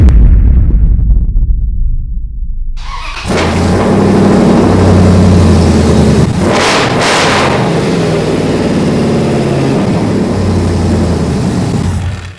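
A motorcycle engine catches and revs hard, roaring loud and close, its pitch swelling and holding for several seconds before cutting off.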